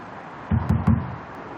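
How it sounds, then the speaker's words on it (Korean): Three quick knocks sound on a hair salon door at night, solid close raps in a short burst surrounded by quiet. "혹시 몰라 한 번 더 문을 두드려보죠"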